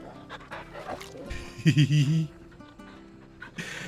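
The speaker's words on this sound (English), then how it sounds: "Can pet the dog." A dog in the Final Fantasy XVI game is petted and answers with panting, soft whimpers and a short burst of yippy vocal sounds in the middle, with a voice talking over parts of it.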